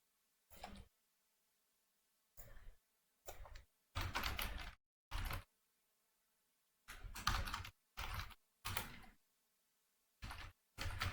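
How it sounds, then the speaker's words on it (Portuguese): Computer keyboard typing comes in short separated bursts of rapid key clatter with clear pauses between them, close and isolated against near silence, with no voices. "Vou esperar aí o Leonardo digitar"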